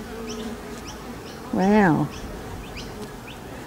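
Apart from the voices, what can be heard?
bees buzzing during palm tree beehive removal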